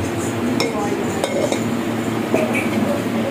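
A spoon scrapes and clinks against a cooking pot while potato pulao is mixed at a home Eid gathering, giving several sharp metallic taps over a low, steady kitchen hum.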